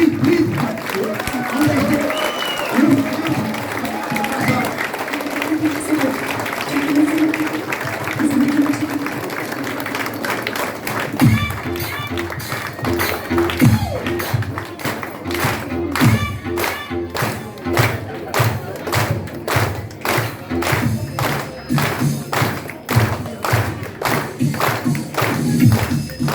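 Audience in a company event hall breaks into loud, dense applause that builds and keeps going, after an announcer speaks over a background murmur.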